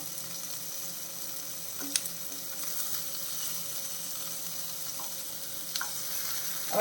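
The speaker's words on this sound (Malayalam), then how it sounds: "നമ്മുടെ ചെമ്മീൻ നല്ല രീതിയിൽ ഫ്രൈ ആയിട്ടുണ്ട്" Prawns fry in a pan with shallots, giving a steady, even sizzle with a faint crackle, plus a couple of brief clinks near the start and near the end.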